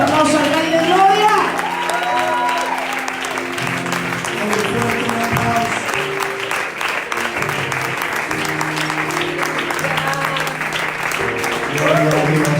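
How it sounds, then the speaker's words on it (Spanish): A church congregation at a prophetic night service applauds continuously, a dense wash of clapping under sustained music and voices, loud and close throughout. "Es un fuerte aplauso al Rey de Gloria."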